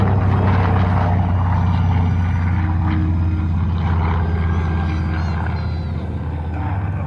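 A World War II Avenger torpedo bomber flies past at an airshow, its big radial piston engine making a loud, steady droning roar that swells and then eases slightly as it goes by.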